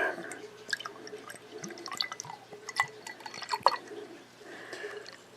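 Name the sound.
pouring a drink into a glass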